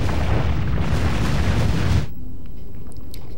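A magnum revolver fires in Resident Evil 4, giving a heavy, loud boom with a dense, roaring blast that lasts about two seconds. It cuts off abruptly into near-quiet, with faint high pings trailing afterward.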